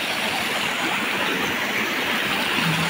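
A waterfall, Busay Falls in Quezon, rushes in a steady, dense roar close by, with no voices over it.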